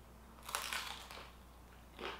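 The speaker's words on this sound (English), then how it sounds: "Can you hear that crunch?" Crispy oil-free taquitos dipped in cheese sauce are bitten with a sharp close crunch, followed by a softer crackle and a second brief crunchy bite after a short pause.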